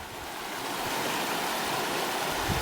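Water flowing along a hiking trail, a steady broadband rush with no pauses, fairly close and moderately loud, with no voices over it.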